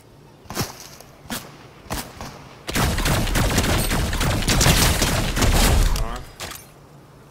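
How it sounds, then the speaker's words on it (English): Video game gunfire: a few sharp, separate shots crack out first, then a dense, loud barrage of rapid overlapping shots keeps going for several seconds before fading. "Man, I'm getting shot at somewhere."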